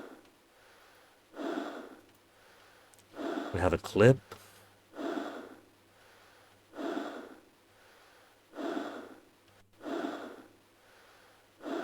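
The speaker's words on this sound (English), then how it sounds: "How thoughtful of Valve to include breathing sound effects with Half-Life in case someone wanted to use it for this purpose." Breathing sound effects from the video game Half-Life: slow, regular, heavy breaths repeating about every one and a half seconds, close and clear, with a brief burst of speech partway through.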